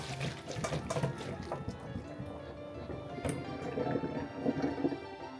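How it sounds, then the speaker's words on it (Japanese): Rakkyo shallots in hot water are tipped out into a colander, making a gushing, splashing pour. It sounds fairly quiet and close, with the water rushing and draining throughout. "お湯に入れて10秒経ったらざるにあけます。"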